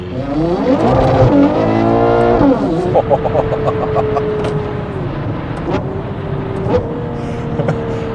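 A Ferrari Purosangue V12 fitted with a NOVITEC exhaust revs hard and downshifts on a street, a loud, close engine note climbing and falling with crackling blips between gears, then settling into a steady drone.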